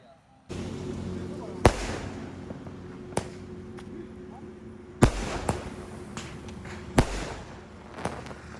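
Diwali fireworks and firecrackers going off outdoors in Odisha: sharp bangs and pops at irregular intervals over a steady background rumble, with voices faintly in the background, including a 12-shot multicolour firework.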